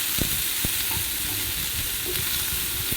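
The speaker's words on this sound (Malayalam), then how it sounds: "വഴുതനങ്ങ എല്ലാം ഇട്ട് കൊടുത്തതിന് ശേഷം നമുക്കതൊന്ന് മിക്സ് ചെയ്ത് കൊടുക്കണം. നന്നായിട്ടൊന്ന് ഇളക്കി യോജിപ്പിക്കണം." Brinjal (eggplant) pieces frying in a pan for thorans, with a steady hiss of oil and scraping knocks from stirring, close up and with no voices.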